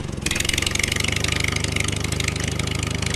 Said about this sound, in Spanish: creo que puedo conducir un tractor